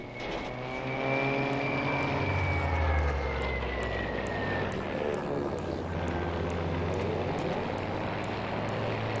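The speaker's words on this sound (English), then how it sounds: "Oh, there's a plane taking off." A propeller plane taking off in Battlefield V drones steadily with a rising and falling engine pitch, loud and continuous, with sharp regular ticking above it and a voice talking over the top.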